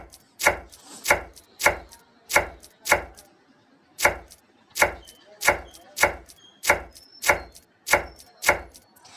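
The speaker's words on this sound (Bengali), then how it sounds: "এবার পেঁয়াজ একটা কেটে নেবো" A knife chops an onion into cubes on a board, firm regular thuds repeating about every half second, close and crisp with no talking.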